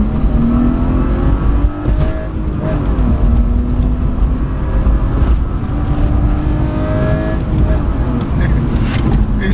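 An engine-swapped BMW E36 accelerates hard, its loud engine note rising in pitch through gears, with a brief dip around two seconds as it shifts before climbing again, close and dominant throughout.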